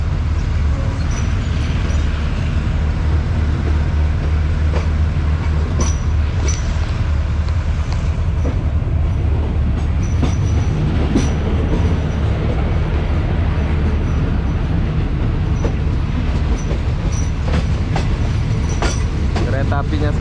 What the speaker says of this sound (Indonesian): So, kereta apinya sudah turun, sudah jalan.